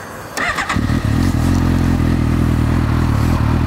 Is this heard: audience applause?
no